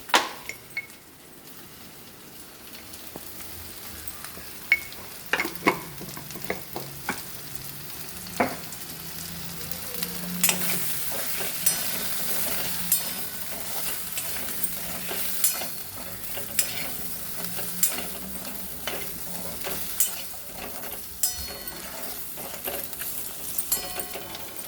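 Chili powder fries in oil in a pot for a Telangana taro tamarind curry, stirred with a spoon. A steady sizzle runs under repeated scraping and clicking strokes, with sharper knocks against the pot and the frying growing louder midway.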